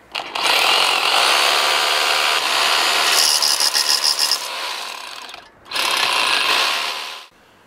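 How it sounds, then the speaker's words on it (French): Rotary hammer drilling a 16 mm hole, likely into a concrete wall for a chemical anchor; a loud, continuous grinding hammer roar runs for about five seconds, stops briefly, then resumes for a second burst. "On va faire un trou de 16 mm de diamètre au perfo"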